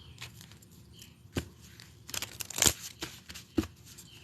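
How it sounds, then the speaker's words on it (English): A deck of playing cards is shuffled in quick riffling bursts, with a few louder snaps and flutters standing out over a quiet room background, and no talk during the shuffle. "I just shuffled the deck."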